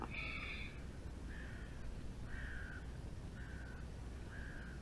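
Outdoors during corvid hunting, crows give about five harsh caws in a loose, repeated rhythm, the first the loudest and the rest slightly fainter, against a steady background hiss.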